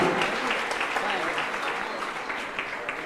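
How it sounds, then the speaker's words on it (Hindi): Loud, dense applause from a large gathering at a Jain religious discourse, continuous close clapping that stays even throughout with no speech. "जोरदार तालियां"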